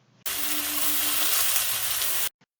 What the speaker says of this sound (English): Don't add any oil, and then add your meat once it's hot.